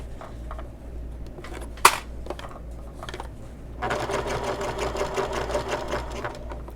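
A sewing machine stitches a seam on a fabric bag, preceded by a few scattered clicks and a sharp tap, then a close, steady rapid chatter of needle strokes running for several seconds.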